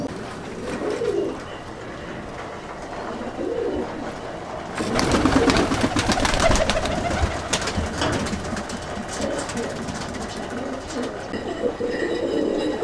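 Kasuri and Dabbwale pigeons coo and flutter together after release, soft cooing close by over a steady outdoor background, with a louder burst of wingbeats partway through.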